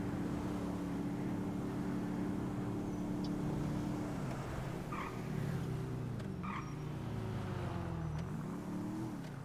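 Car in GTA 5 speeding along, a continuous engine drone with shifting pitch as it accelerates and eases off, steady and close, with brief faint clicks over it.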